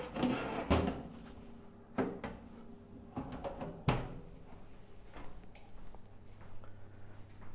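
A cheap desktop oven's door opens with a few sharp clunks and rattles, close by in a quiet room with some low hum.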